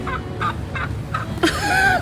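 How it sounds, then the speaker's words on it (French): Wild turkeys gobbling in a flock, several short rattling gobbles in quick succession followed by a louder, closer call, over low background noise. "Il y a plein de dindons."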